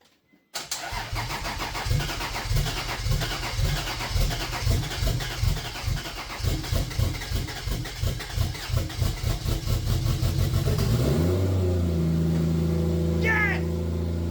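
A 2JZ engine swapped into a Toyota 4Runner cranks rhythmically, catches for its first start and settles into a loud, rough idle close by, with voices cheering underneath.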